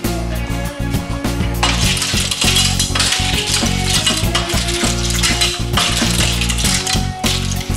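Mussels and shrimp in a ragout coming to a boil in a pan, giving a steady, loud sizzle and bubbling with occasional metallic clinks of a utensil against the pan, no voices over it.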